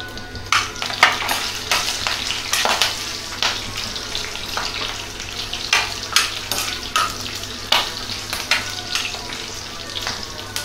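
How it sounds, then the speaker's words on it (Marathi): Slit green chillies sauté in hot oil, a loud, close sizzle with repeated bursts of crackling and scraping as they are stirred about in the pan, with no voices. "ज्या आपण मिरच्या मधून चिरलेल्या आहेत त्या मिरच्या आपल्याला तेलामध्ये परतवून"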